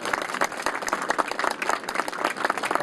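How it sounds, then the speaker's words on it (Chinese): An audience applauds at the opening ceremony of a high school baseball invitational tournament, welcoming a Fo Guang Shan temple abbot to the podium; dense, even clapping from many people fills the short stretch. "恭请佛光山寺常务副主持暨三好体育协会副会长惠传院长为我们致辞，掌声欢迎。"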